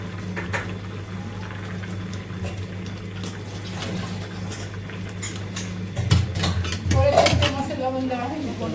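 A pot of curry, with mixed fish including bamboo-leaf fish tipped in, gives a steady low kitchen hum. A few sharp clatters and splashy knocks come close together near the end.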